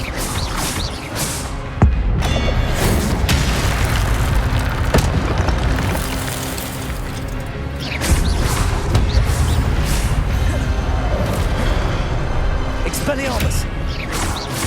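Hogwarts Legacy gameplay with the Expelliarmus spell being cast over and over amid heavy booming impacts and crashes, while a voice shouts loudly throughout.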